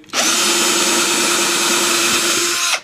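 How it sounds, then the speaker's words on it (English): A power drill bores through a cigar box guitar body, one continuous loud, high-pitched whine that starts abruptly, holds steady for under three seconds, then cuts off. "drill through like so, and I'm going to get the rest of them here"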